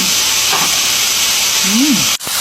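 Pork steak seasoned with Italian seasoning sizzles loudly on a hot sizzling plate, a steady broad hiss that continues nearly unbroken with a brief dip near the end and a faint voice murmuring underneath.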